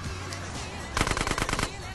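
A short, fast burst of automatic gunfire erupts about halfway through, loud and rattling over the steady rumble of a car being driven in GTA San Andreas.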